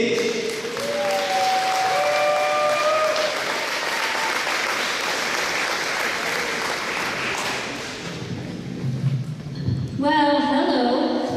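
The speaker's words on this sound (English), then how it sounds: "Help me give a big round of applause to a survivor, a hero" Sustained crowd applause at a Relay for Life cancer event in Case Arena, Frankfort, Indiana, honoring a survivor; steady loud clapping fills the arena for about eight seconds before fading, with a voice briefly rising near the end.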